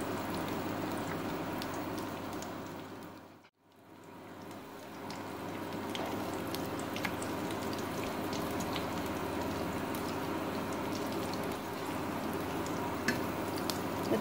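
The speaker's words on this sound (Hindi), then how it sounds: "काजू और ये किशमिश फ्राई करके निकाल देंगे।" Cashews and raisins frying in hot oil for a sweet rice dessert, a steady close sizzle and crackle that dips briefly before continuing.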